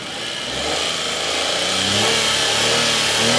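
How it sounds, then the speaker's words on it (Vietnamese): A 2011 Chevrolet Spark's engine runs smoothly close by, a steady mid-pitched hum that swells slightly as if lightly revved, then holds at a constant drone with no talking. "Máy nè, khá là êm, test phần máy cùng với Trần Anh nha."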